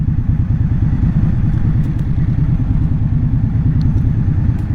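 A 2023 Indian Scout motorcycle engine runs steadily and loudly up close, its low throbbing rumble continuous for the whole stretch with no talk.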